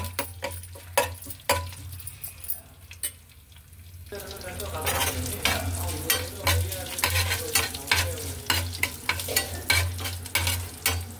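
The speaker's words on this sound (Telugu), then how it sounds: "ఇలా పోపు వేగుతుంది" A popu tempering fries in a pan, with a steady soft sizzle under frequent sharp stirring and scraping clicks against the metal, close and moderately loud.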